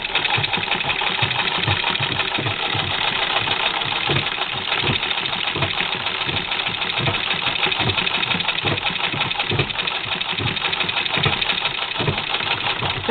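A sewing machine with a walking foot stitches through three layers of bulky knit sweater, running a loud, steady rapid mechanical chatter close by for the whole stretch without pause or voices.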